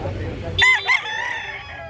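A big rooster crows loudly nearby at Carbon Public Market in two short bursts after a moment of low background noise, the call trailing off into a lingering tone.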